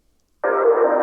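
Glitch sound effect from the Chime Pack, used in a remix: a single abrupt burst of dense, buzzy, steady tone that starts suddenly, holds for about two thirds of a second and cuts off, heard alone.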